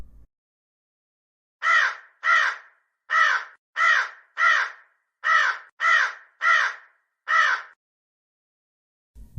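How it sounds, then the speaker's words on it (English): A crow caws nine times in a steady, evenly spaced series of harsh, loud calls, heard alone against a quiet background. "crow"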